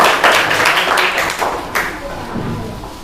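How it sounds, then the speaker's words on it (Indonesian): Classroom applause for a student group during a maths lesson on ratios, a short burst of close, loud hand clapping from many students that fades out within a few seconds. "Tepuk tangan untuk kelompok kuning."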